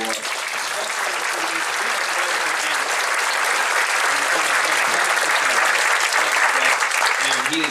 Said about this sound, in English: Dan deserves a round of applause for